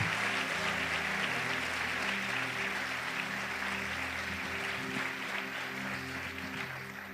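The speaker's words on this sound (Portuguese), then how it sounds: "Dê um aplauso o melhor que você puder." Congregation in a church applauding together, a dense sustained wash of clapping that stays steady and close for the whole stretch, easing off slightly toward the end, with a low instrumental drone beneath.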